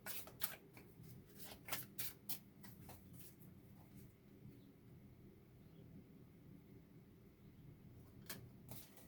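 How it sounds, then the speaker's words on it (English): Tarot cards shuffled and drawn by hand, a few crisp riffling bursts up front, then quiet soft handling, faint and close, with one more brief flick near the end. "I'm going to pull 1 extra card for you right now"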